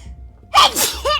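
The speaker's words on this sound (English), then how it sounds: "Once I sneeze, it starts." A loud, close sneeze with a quick intake of breath, followed moments later by a short vocal exclamation.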